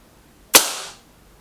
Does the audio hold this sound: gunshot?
yes